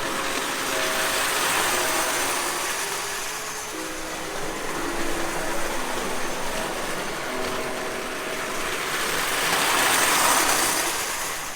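A small ride-on train at a roadside attraction rumbles along steadily with a continuous rattling, whooshing roar that swells and eases slightly, no voices.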